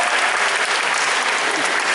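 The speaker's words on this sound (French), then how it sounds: "Oh, bravo Mathéo. Faut l'applaudir." A church congregation claps for a child named Mathéo at a Sunday service, a dense, steady burst of applause heard up close with no pause.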